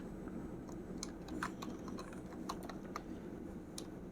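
Text being typed on a computer keyboard, with quick irregular key clicks in short bursts, soft and close in a quiet room, with no talking.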